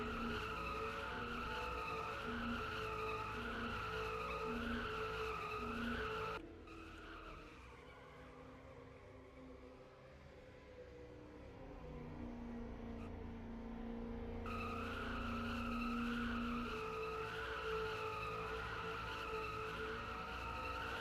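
Race car tires squealing and skidding through a long post-race burnout after a battle at Auto Club in a racing game, a loud continuous screech with engine roar that dips in the middle and swells again.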